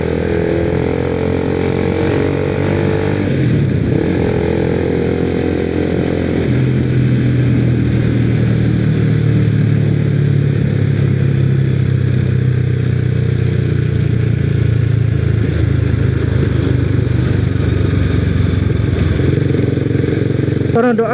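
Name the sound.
noisy Honda CBR250R motorcycle engine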